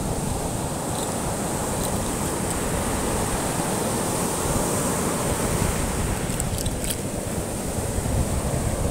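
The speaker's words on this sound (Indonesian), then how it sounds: "Ya, seperti inilah pantainya" Ocean waves at Pasir beach in South Blitar, a loud, continuous roar of surf and wind with no pauses and no voices.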